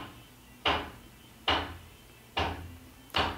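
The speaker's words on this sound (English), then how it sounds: "And there goes that hammering." Four sharp, separate knocks land at roughly even intervals, close and fairly loud against a quiet indoor background, like hammering on wood somewhere nearby.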